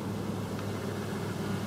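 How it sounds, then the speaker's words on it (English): Steady, broad road noise from nearby traffic, a constant rumbling wash with no distinct passes or voices. "Sorry about the noise. I'm right by the road."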